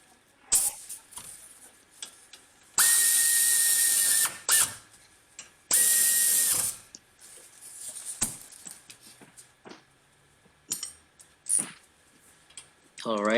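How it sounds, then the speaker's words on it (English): Brake caliper bracket bolts on a 2002–2010 Toyota Corolla being tightened with a ratchet: short bursts of rapid clicking, two longer sustained runs, and scattered clanks of tools against metal, close by in a quiet garage. "we're gonna tighten the bolts"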